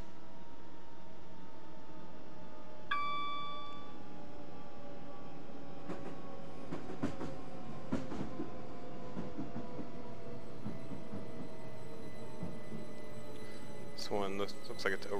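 A London to Brighton commuter train in the video game Train Simulator 2014, a steady rumble of rolling rails with repeated clacks and squeals as it runs on, while someone talks over it.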